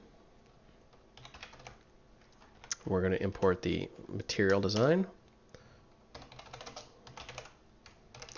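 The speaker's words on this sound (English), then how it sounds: "we're just going to start typing away" Rapid clicking of computer keys in quick bursts, close up, with someone talking in the middle while coding.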